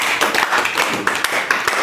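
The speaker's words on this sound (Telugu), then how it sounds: "క్లాప్స్." Children clap in a classroom, a short burst of scattered, uneven hand claps close by, with no one speaking over it.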